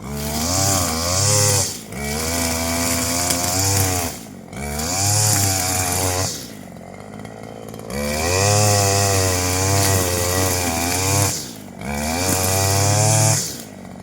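A petrol brush cutter clears undergrowth in an orchard, its engine close and loud, revving up and down in long bursts with short idle dips between cuts.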